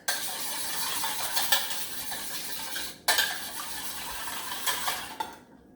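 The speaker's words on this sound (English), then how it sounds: "Whisk the eggs with your whisk." A whisk beats two eggs in a bowl, making a steady metallic clatter and scraping against the sides. The sound is close and continuous, with a few louder knocks and a brief pause partway through.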